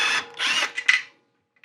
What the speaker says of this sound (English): So what I've done is I've just grabbed the socket, connected it to my drill.